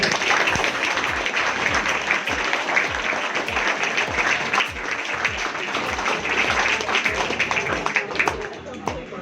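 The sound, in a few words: audience applause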